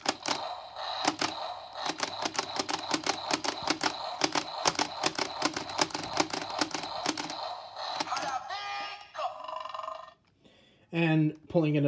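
A DX Mosa Changer toy from Kishiryu Sentai Ryusoulger fires its trigger attack sound effect: a long run of rapid, loud electronic clicks and bursts, then warbling tones and a brief voice-like electronic phrase.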